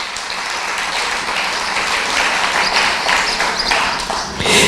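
Church congregation applauds with a dense, sustained wash of clapping from many hands, loud and filling the room, swelling slightly at the end.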